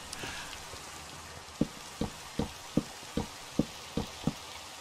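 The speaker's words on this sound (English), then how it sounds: "you should be able to sleep while it's raining in Minecraft" Rain falling in the video game Minecraft, a steady hiss with a run of distinct, evenly spaced drip-like taps, moderately close and heard alone.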